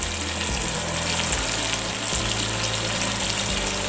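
Chickpeas and potatoes simmering in biryani masala in a pot, a dense continuous bubbling sizzle that holds steady and fairly loud from start to finish, with a low rumble underneath and no talk.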